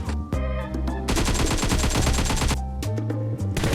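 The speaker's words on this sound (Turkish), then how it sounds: "Kaptan vur kaptan." Rapid bursts of automatic gunfire from a PUBG Mobile match, loud and dense, several strings of shots with brief pauses between them and no voices over them.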